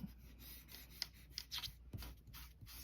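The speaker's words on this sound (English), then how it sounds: "I'm going to come over here and just blend it, and all you do is just rub it" Paper rubbed by hand to blend a drawing, producing faint, soft scratchy strokes in short irregular bursts, close and quiet with no talk.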